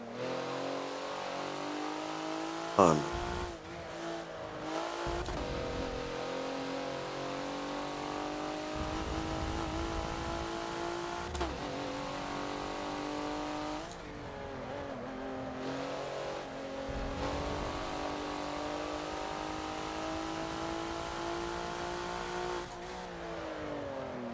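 A Porsche race car engine revs hard in the Forza racing game on the Hockenheimring, holding a steady loud drone with brief shifts and throttle changes throughout, with no talking.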